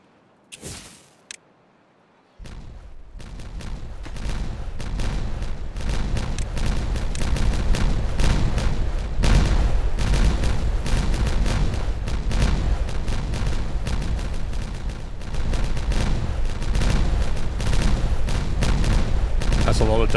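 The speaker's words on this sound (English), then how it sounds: "Alright, I think we can detonate this." Dynamite detonations in the Timberborn video game boom in a long, dense chain of blasts and rumbling after a brief quiet start, loud and sustained with a heavy low end throughout.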